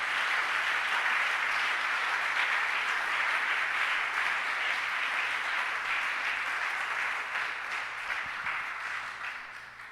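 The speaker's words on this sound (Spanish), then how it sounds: "Aplaude al Señor, por favor." A church congregation applauds steadily, a dense sustained wash of clapping that fills the whole stretch and tapers slightly near the end.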